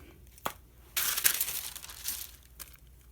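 Fabric being cut for a stained glass window quilt-style craft, heard as a dry crinkly snipping and rustling burst that swells for about two seconds after a couple of short clicks, close and fairly soft with no voice.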